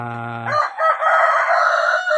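Rhode Island Red chickens and a rooster on a farm, the rooster crowing loudly and close for a couple of seconds with hens clucking around it.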